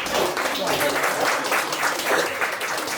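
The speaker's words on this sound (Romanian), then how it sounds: "să aplaudați, vă rog" An audience clapping at a stand-up comedy show, a dense, steady patter of many hands filling the room, close and sustained throughout.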